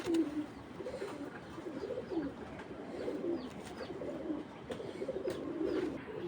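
Soft, repeated pigeon coos in a steady murmuring rhythm, several birds close by over a faint background hum.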